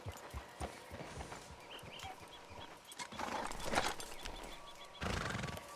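A horse whinnies amid clip-clop hoofbeats in Red Dead Redemption 2, a black tobiano with white spots; several neighs and steady hoof steps play at moderate level, with broadband rustling bursts near the end.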